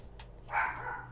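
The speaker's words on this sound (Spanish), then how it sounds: "que viene mi perro a, regañarme" A single short dog bark, moderately close, preceded by a faint yip, over a quiet indoor background at night.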